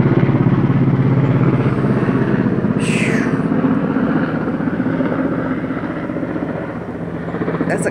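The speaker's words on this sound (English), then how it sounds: "I got helicopters going over like crazy" Army helicopters pass overhead with a loud, steady rotor thrum and engine roar that dominates throughout, fading slightly near the end.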